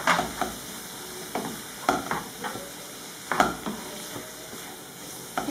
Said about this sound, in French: je vais rajouter les tentacules de calamar que j'ai coupé en petits morceaux. Comme ça sera cuit avec les poivrons.